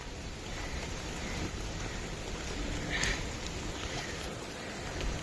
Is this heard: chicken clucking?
no